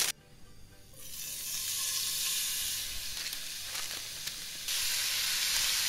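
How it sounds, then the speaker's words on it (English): Ground meat browning in olive oil in a very hot pan gives a loud, steady sizzle and hiss that swells as the meat is spread out, with a few soft scraping stirs. "I like to spread the meat out nicely in the pan so that it browns evenly"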